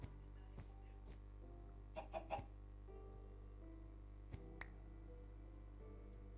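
Chicken clucks from the video game Minecraft, a few short clustered calls in the middle over a steady low game hum, with other sparse clicks and no talk.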